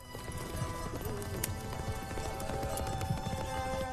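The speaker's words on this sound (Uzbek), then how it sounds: "Qani haydang otlarni." Horses being driven make a steady clip-clop of hooves, with an occasional whinny, moderately close and continuous over a faint background.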